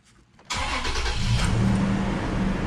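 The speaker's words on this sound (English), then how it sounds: "Then start the car" A Toyota car engine cranks and catches after a quiet half second, then settles into a loud, steady idle with a low rumble and constant hiss, recorded up close.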